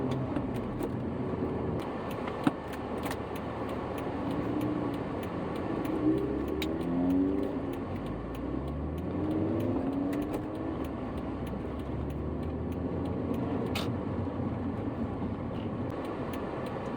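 A BMW engine laboring at low revs close to stalling on an incline, a steady low rumble with uneven surges and dips that runs without pause, loud and close.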